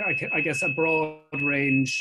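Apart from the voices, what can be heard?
smoke alarm going off in the background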